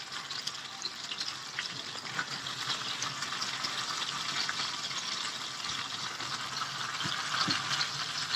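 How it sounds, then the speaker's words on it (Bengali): A large tilapia fries in hot oil in a pan, turned from side to side, producing a continuous dense sizzle that holds steady throughout, with faint clinks of turning now and then. "এপিঠ ওপিঠ উল্টিয়ে বারবার ভেজে নিচ্ছি"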